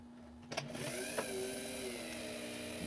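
A small drill starts up with a click and runs a steady whine while cutting a pivot hole in an Ansonia time-and-strike clock plate, close and continuous, with slight pitch wobbles.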